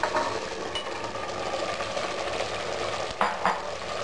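Cooked mutton pieces are stirred into fried masala for Bangalore-style donne biryani, a soft continuous sizzle with scraping spoon strokes and a couple of louder stirs near the end.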